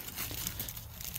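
Honeysuckle vines and privet brush are ripped away by hand during a garden cleanup, giving a steady, close crackling and rustling of leaves and stems that holds for a little over a second.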